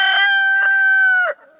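A single loud, close rooster crow from a backyard flock of young barnyard mix chickens, one drawn-out call that ends abruptly with a faint cluck afterward.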